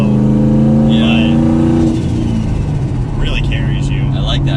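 A 1,000 HP turbocharged Ford Mustang GT accelerates hard, its loud engine note climbing and then settling into a steady roar, with a person talking over the engine.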